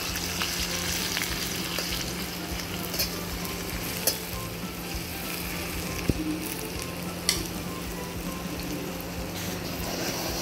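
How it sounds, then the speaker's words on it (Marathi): Garlic, cumin and coconut paste frying in a pan over a wood-fired stove, giving a steady, close sizzle throughout with a few small clinks and no talking. "आणि आता टाकायचं लसूण जिरा आणि खोबऱ्याचा पेस्ट."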